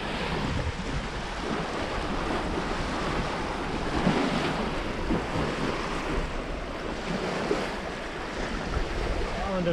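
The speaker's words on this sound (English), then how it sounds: "we're cracking along, having a nice little sail in flat water" A sailboat cracks along over flat water off an island near Saumlaki, with a steady wash of water against the hull and gusty wind buffeting the microphone, continuous and close.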